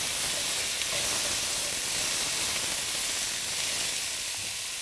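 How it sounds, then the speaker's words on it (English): Peas and carrots sautéing in oil in a pan for vegetable tahiri, giving a continuous bright sizzling hiss that holds steady and close, tapering only slightly toward the end, with no talking. "I will saute them around just a little, just so that they can cook down."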